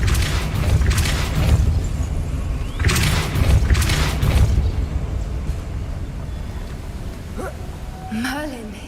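A Depulso spell cast in the video game Hogwarts Legacy, heard as booming, rumbling blasts of magical force with whooshing bursts, loud and dense over a constant game soundscape, with a short swooping tone near the end.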